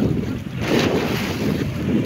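Heavy ocean waves surging and washing against a seawall at a beach park in Panabo City, Davao del Norte, mixed with strong wind buffeting the microphone; a continuous, rough roar with no talking.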